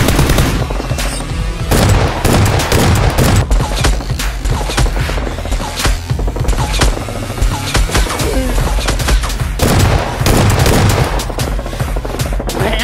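Nerf guns fire in a staged toy-blaster battle between SWAT-style warriors and a criminal group, a dense, loud, continuous barrage of rapid clacking shots and booming effects throughout, with no talk.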